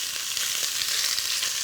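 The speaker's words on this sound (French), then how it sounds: "Je retourne mes morceaux de viande." Meat pieces sizzle in a hot pan as they are turned, a dense, continuous frying hiss with faint scraping taps from the turning.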